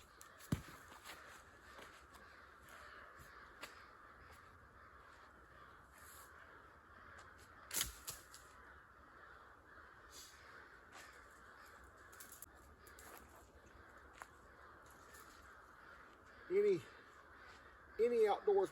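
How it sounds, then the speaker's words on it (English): Crows cawing outdoors on a morning at the start of a hunting season, scattered calls at moderate distance, with a couple of louder nearer caws near the end and footsteps in between. "Them crows are going crazy."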